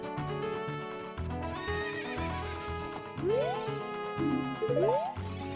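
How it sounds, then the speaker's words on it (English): A horse in The Legend of Zelda: Ocarina of Time gives two shrill whinnies, with clip-clopping hooves, all set against looping game music. "Gotta summon my horse"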